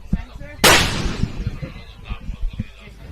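A long-range rifle chambered in 300 Norma Magnum fires one sharp, loud crack outdoors at an extreme long-range shooting competition, followed by a fading rumble, with quiet talking around it.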